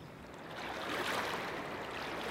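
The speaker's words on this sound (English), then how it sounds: "Listen to the noise of crystal clear river." A crystal clear river current flows over granite stones with a steady, broad rushing wash that swells slightly and holds constant, alone without voices.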